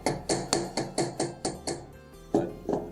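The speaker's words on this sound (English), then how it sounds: "we're going to have to hammer the rounded portion so that it's harder." A hammer strikes a wire ear wire to harden it during jewelry making, landing nine crisp, evenly spaced metallic taps close by after a brief pause, with no talk.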